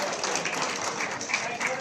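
A crowd applauds steadily at an official ministry ceremony where the Chief Minister hands appointment letters to dentists and medical officers, a dense, even patter of clapping.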